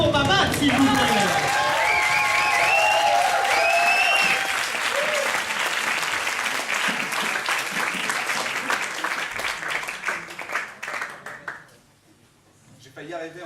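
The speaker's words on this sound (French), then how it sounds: "Et je demande un peu d'applaudissement pour Maman" Audience applause at a show, loud sustained clapping from a crowd with voices and whoops mixed in, slowly thinning out before a sudden drop to near silence at the end.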